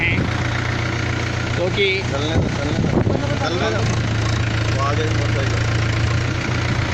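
A tractor engine runs with a steady, low mechanical hum as it carries teachers and children through flood water after heavy rain. Loud, continuous engine drone sits under someone talking throughout.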